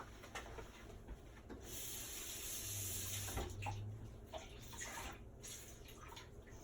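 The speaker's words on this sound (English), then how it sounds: "I'm going to put this under the faucet, and then I'm going to put water on it." Water runs from a kitchen faucet onto damp paper towels, a steady close hiss and splash that swells in the middle and carries on throughout, with faint dripping and no talk.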